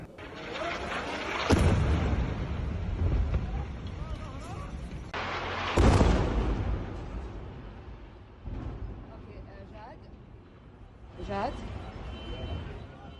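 Bombing strikes on a multi-storey building in Beirut, heard as heavy booming blasts with long rumbling tails, loudest near 1.5 and 6 seconds and weaker bursts later, mixed with crackling noise and voices.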